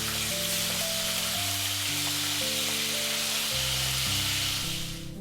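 Second batch of chicken frying in a wok, a steady loud sizzle running throughout, with music playing underneath and no talking.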